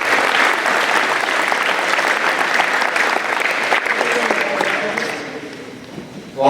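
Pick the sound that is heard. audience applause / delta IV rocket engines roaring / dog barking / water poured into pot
audience applause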